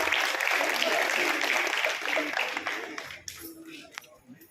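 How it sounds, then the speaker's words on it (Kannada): Audience applause at a Kannada cultural award ceremony in Bidar, a dense, steady wash of many hands clapping that fades and thins out toward the end. "ಎಲ್ಲರನ್ನು ಹಾಗೆ ಚಪ್ಪಾಳೆಯನ್ನು ತಟ್ಟಬೇಕು"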